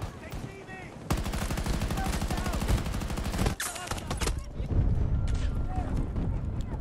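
Battlefield 2042 gunfire: scattered shots, then a long rapid automatic burst of an assault rifle lasting over two seconds, followed by more distant firing and battlefield noise, with a voice mixed in.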